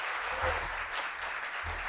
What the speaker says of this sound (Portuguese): eu quero pedir um aplauso a Deus pela vida deles